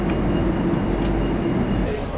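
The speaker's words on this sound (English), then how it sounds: "Taking a quick metro to head back to the apartment for a bit of a rest." Ride aboard a metro train in Valencia, Spain: a loud, steady rumbling roar of the carriage in motion with short bursts of higher hiss, continuous over a couple of seconds.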